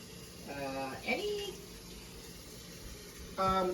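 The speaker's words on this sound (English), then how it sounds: "let me rinse my knife and get gloves" Tap water runs briefly in short splashy bursts as a knife is rinsed in a sink, quiet and close, with faint talk in the background.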